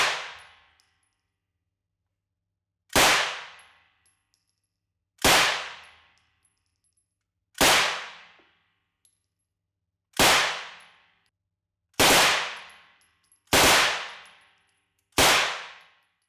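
A British Sten submachine gun in Hell Let Loose fires eight sharp single shots, each a crisp loud crack with a short ringing decay, spaced irregularly with silence between them.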